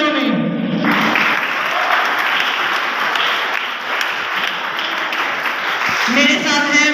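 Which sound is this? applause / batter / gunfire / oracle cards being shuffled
applause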